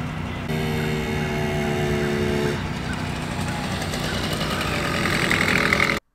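A moped engine, recently fitted with a cleaned carburetor and a new fuel line, runs steadily with a buzzing, droning tone that shifts slightly in pitch partway through and rises a little before cutting off.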